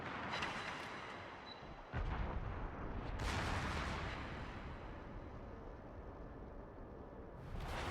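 Warship gunfire in a naval battle game, heavy booming salvos that roll into a sustained rumble, with a sharp new blast near two seconds and another toward the end.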